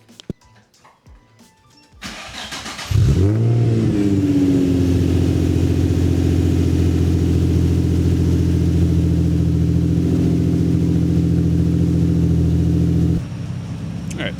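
A Nissan G35 fitted with a Z1Motorsports dual exhaust cranks and fires up, then settles into a steady, loud idle that drones on for about ten seconds before cutting off.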